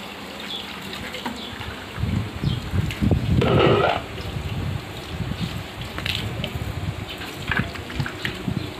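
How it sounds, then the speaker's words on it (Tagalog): Water being poured into a pot to be boiled, a loose, splashy gushing that swells around the middle and settles into quieter trickling, fairly close, with scattered background noise. "Katamtaman lang ang tubig ilagay."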